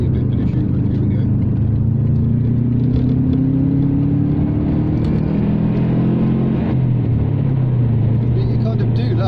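A Subaru Impreza engine revs up and holds a rising drone while accelerating to overtake, pitch climbing then dropping as gears shift, with a voice talking over it.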